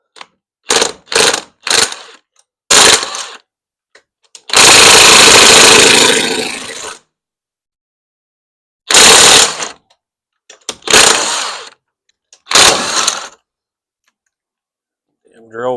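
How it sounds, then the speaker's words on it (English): A power drill spins lug nuts off a car wheel in loud, close bursts: several short whirring pulses, then one long run of about two seconds, then more short bursts with silent gaps between them. "Damn drill was on 2."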